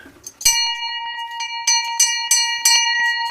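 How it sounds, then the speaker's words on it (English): Bells ring aboard a ship at sea, several clear metallic strikes in an uneven sequence, loud and close with long ringing tones after each hit and no talking. "Ooh, I hear some bells."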